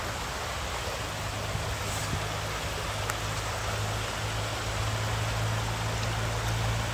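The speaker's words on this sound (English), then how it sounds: "Yes, the creek still flows." Creek water running steadily over a small cascade in Northwest Ohio, a continuous broadband rush with a low rumbling undertone, close and unbroken throughout.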